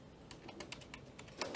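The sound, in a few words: computer keyboard typing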